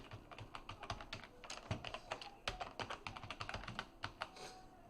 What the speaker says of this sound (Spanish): aquí le voy a poner una contraseña.